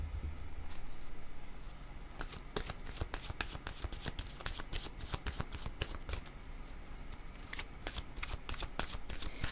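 Oracle cards are shuffled by hand in rapid, continuous riffling bursts, with crisp flicking slaps and papery patter repeating for several seconds, close and clear with no speech.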